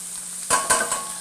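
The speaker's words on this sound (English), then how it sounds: "we're going to saute these for about a minute or 2 minutes per side" Shrimp and garlic sauté in a hot pan with oil, a steady sizzle broken by a couple of sharp scraping bursts as the pieces are moved.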